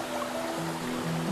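A clear mountain stream with small finger-length fish flows steadily and softly, a continuous faint wash of water with a few sustained tones underneath and no talking.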